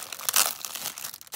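Paper crinkles and rustles as a mailed package is unwrapped, a close, short burst of crumpling with a louder crackle near the middle.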